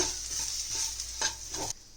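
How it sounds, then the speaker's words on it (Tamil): Soft sizzling of chili powder sautéing in a pan with a few scraping stirs of a spoon, then the sizzle briefly fades near the end. "இப்போ இதை லைட்டாக வதக்கிக்கோங்க"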